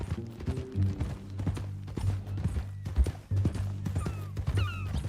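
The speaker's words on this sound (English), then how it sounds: "That a new horse?" Horse hooves clip-clopping in Red Dead Redemption 2, a steady rhythmic trot that stays close and fairly loud over a low sustained hum, with a thin high cry near the end.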